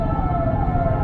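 An ambulance siren wails steadily in traffic, a loud continuous tone that holds through the whole moment with road noise underneath.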